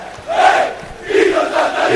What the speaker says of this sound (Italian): qua c'è l'inno, il coro preferito dei tifosi dell'Akragas